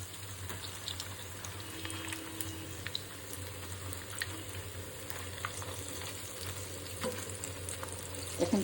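Battered egg chop sizzling in hot oil in a home kitchen, a steady close crackle and hiss running the whole time with small pops and bubbling bursts, no voices.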